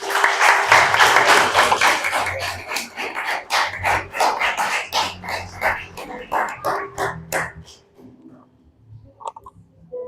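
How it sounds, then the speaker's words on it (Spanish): A church congregation claps together during a worship service, a fairly close, dense patter of many hands that thins into scattered claps before fading near the end. "Démosle un fuerte aplauso al Señor."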